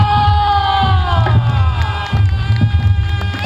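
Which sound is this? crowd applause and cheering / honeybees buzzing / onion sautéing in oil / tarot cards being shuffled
crowd applause and cheering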